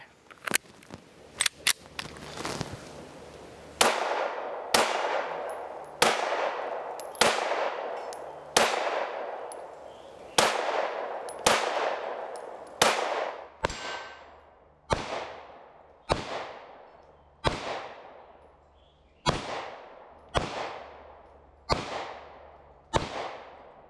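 Pistol shots from an IWI Masada Slim, sharp cracks fired one at a time at a steady, unhurried pace, each with a ringing outdoor tail, preceded by a few quicker early reports.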